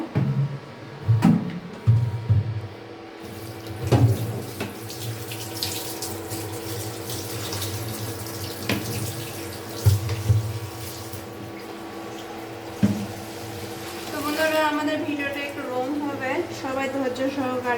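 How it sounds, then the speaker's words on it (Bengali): Tap water runs into a sink while boiled noodles for chow mein are rinsed and drained, a steady rushing stream broken by splashes and clatter, followed by a brighter gushing flow near the end. "এখন আমি পানিটা সুন্দর করে ঝরে নেব"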